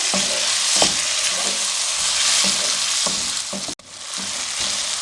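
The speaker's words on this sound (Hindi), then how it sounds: "अब टमाटरों को 3 से 4 मिनट के लिए फ्राई करेंगे।" Chopped tomatoes frying in a pan, a dense steady sizzle close up, with occasional soft scrapes of stirring.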